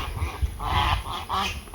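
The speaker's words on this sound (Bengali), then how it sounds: "হাঁস কিনেছে।" Ducks in a rural Bengali village setting quack and honk in a short cluster of close, fairly loud calls, with no talking.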